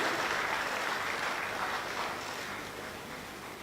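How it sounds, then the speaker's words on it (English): Sustained audience applause at a formal trade event with Australian and Indonesian ministers, a dense even wash of many hands clapping that stays steady and fairly loud, then eases slightly toward the end. "Kita beri tepuk tangan meriah."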